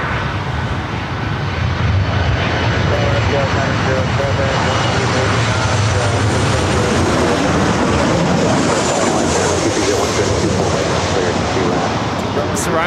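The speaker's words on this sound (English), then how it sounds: "The flight heading to Lihue should be the next takeoff on the 24 right." A jet airliner takes off from runway 24 right at Los Angeles International Airport, its engines a loud continuous roar that rises and holds for the whole stretch, with wind noise on the microphone.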